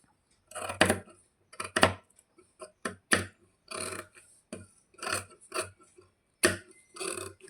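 Scissors snipping through blouse fabric, a series of short, crisp cuts in an irregular rhythm, close and fairly quiet with silence between snips.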